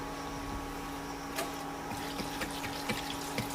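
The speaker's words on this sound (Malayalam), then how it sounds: "അതിലേക്ക് നിരക്ക് അതായത് കൂടുതൽ വെള്ളം ഒഴിക്കണം" Water pours steadily into a cooking pot of tapioca, a soft continuous splashing flow with a few faint clinks, quiet and without talk.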